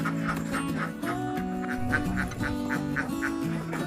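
Laying ducks on a duck farm quack in loud, rhythmic bursts from several birds at close range, one call following another in steady succession.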